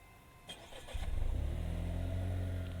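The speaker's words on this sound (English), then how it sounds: "Should we see what a cold start sounds like?" A 2021 Chevy Trailblazer is remote-started cold, with a few faint clicks, then the engine cranks and catches with a rising rev before settling into a steady, fairly loud idle.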